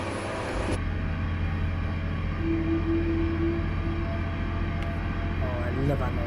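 Train engine in the railway game Train Simulator Classic, a low rumbling drone with a thin sustained whine held through the middle, close and steady, after a brief burst of broadband noise at the start.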